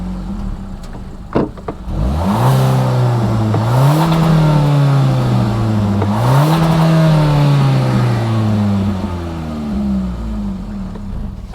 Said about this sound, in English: Exhaust, let's hear that real quick.